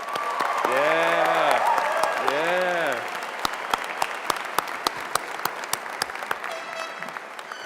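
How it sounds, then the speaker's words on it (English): A graduation crowd at Highlands Ranch High School applauds steadily at first, then the clapping thins into scattered individual claps, with a voice briefly speaking over the start. "so please give us a big round of applause"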